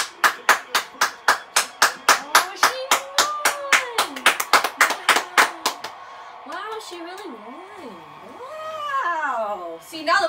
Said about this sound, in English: See, now the mom's big clapping.